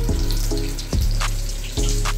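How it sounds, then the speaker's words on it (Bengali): Topse fish fry in hot oil over low heat until golden, giving a steady, loud sizzle and crackle. A few sharp clinks or taps sound over it. "তো এইভাবে আমি সোনালি সোনালি করে ভেজে নেব"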